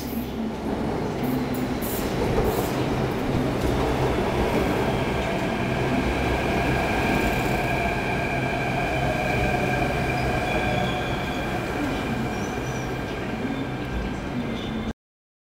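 Metro train riding through the underground toward the city centre, a steady loud rumble of wheels and car noise with faint squeal tones, continuous throughout with no talk.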